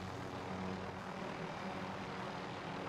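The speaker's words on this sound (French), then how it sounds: "Un drone arrive sur zone" A recon drone flies overhead in the game Warzone, giving a steady, droning propeller-like engine hum that stays constant and fairly faint throughout, with no voices.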